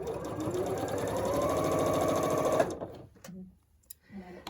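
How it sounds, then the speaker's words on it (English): A sewing machine stitching a quilt block along the diagonal runs loud and steady for under three seconds, then stops, leaving quiet clicks and faint handling noises. "I'm going to sew right on the diagonal."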